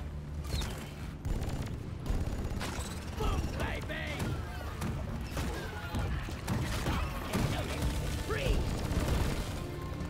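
Rapid gunfire and mechanical clatter from the cooperative mining shooter Deep Rock Galactic during a Scout duo Deep Dive. The bursts are dense and continuous, with someone talking over them.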